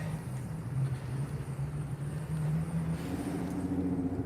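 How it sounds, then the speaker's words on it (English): A modified car exhaust gives off a steady, low, throaty rumble that swells slightly and holds continuously, fairly close, with no talking. "His car is modded. You can hear that nice exhaust."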